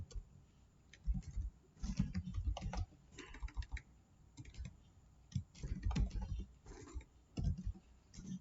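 Someone types on a computer keyboard at a command prompt, a quick irregular run of soft key clicks in short bursts with brief pauses, close and fairly quiet, with no talk.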